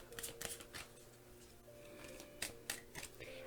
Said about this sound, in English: I always shuffle until I get a tingling sensation in my solar plexus region